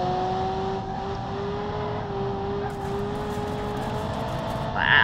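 Car engine in a video game, likely Roblox Jailbreak, holding a steady, smooth hum at constant speed throughout, with a brief louder burst near the end.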